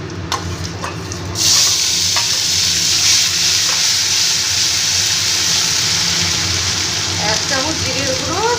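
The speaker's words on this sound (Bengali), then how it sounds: "হিংটাকে দিয়ে আবার একটু ভেজে নিয়ে তারপর একটু আদা বাটা টমেটোর পেস্ট দিয়ে দিচ্ছি" Ginger paste and tomato paste hit hot oil with asafoetida, setting off a sudden loud, hissing sizzle that holds steady and close, with faint stirring clinks and a brief high squeak near the end.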